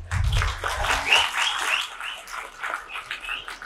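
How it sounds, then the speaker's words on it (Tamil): An audience at a speech breaks into applause after a poem, a dense, crackling patter of clapping that swells at the start and then thins slowly over a few seconds. "இந்த அவை தான் உடனே கைத்தட்டுது"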